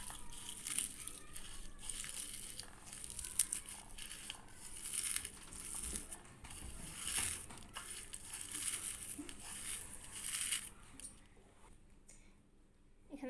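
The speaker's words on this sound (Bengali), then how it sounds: "চিংড়ি মাছটা তেল দিয়ে মশমশা করে ভেজে নিয়েছি। এটা এখন হাতে আমি ডলে নেব সুন্দর করে।" Crisp oil-fried shrimp, crushed by hand for a shrimp bharta, gives a dense, continuous crackling crunch close by that stops near the end.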